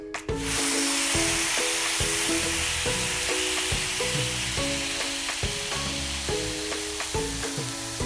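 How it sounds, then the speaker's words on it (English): About a cup of tomato paste fries and sizzles steadily in a pot for jollof rice, with a rhythmic series of scraping stirs and light taps from the spoon over continuous hissing. "Now add about 1 cup tomato paste and allow to cook very well for about 5 to 8 minutes, stirring intervally to avoid burning."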